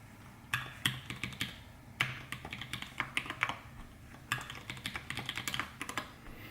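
Crisp, rapid clicks of a mechanical keyboard with lubed Zealios 65g v2 switches come in quick bursts with short pauses between, close and fairly quiet.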